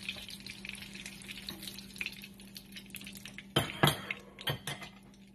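A pan clatters and a utensil scrapes while rice is fried with longganisa sausage, over a low steady hum. A burst of louder metallic stirring comes near the end.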